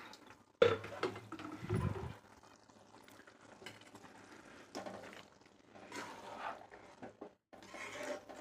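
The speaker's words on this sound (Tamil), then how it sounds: "சேர்த்துட்டு தேவைக்கு தண்ணி சேர்த்திக்கலாம்" Water splashes and pours into a pot of simmering eggplant curry masala at close range, with faint sizzling and bubbling before and after the pour.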